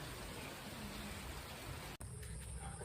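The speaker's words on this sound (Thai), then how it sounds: "เออฝนตกแล้วตอนนี้" Steady rain falls outside a beachside pool villa resort room, a dense, even hiss throughout with one brief dropout partway, no voices.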